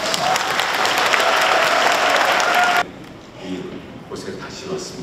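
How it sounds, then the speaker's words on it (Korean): Loud, dense applause from a large audience at a commemoration ceremony for the 31st anniversary of the June 10 democratic uprising fills the first three seconds, then cuts off abruptly to quiet room tone with faint murmurs. "우리 감사의 박수 부탁드리겠습니다."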